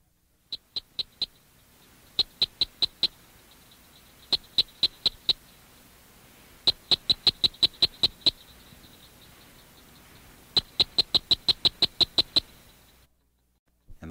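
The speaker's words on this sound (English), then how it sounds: "Florida cricket frog produces this sound." A Florida cricket frog calls with crisp, high, ticking clicks in quick runs separated by short pauses, clear and close against a quiet background.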